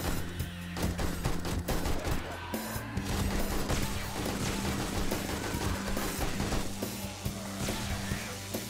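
Rapid AK rifle bursts from the video game 7 Days to Die, dense and continuous throughout with clattering impacts mixed in and game sounds underneath.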